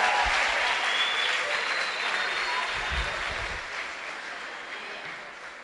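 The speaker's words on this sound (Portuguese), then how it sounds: "Vamos aplaudir ao Senhor." A church congregation applauds the Lord, a full, steady round of clapping from many people that slowly fades in volume over nearly six seconds, with a few low thumps underneath.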